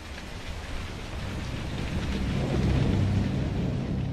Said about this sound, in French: C'est peut-être le dernier orage de la saison.